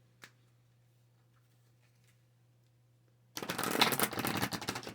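Tarot cards being shuffled, a dense burst of rapid papery riffling that starts abruptly after a faint tap and some near-silence, then carries on loud and close to the end.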